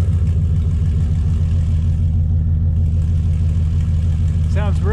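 A truck engine with no catalytic converters idles loudly with a deep, steady rumble and throbbing exhaust note, holding the same level throughout.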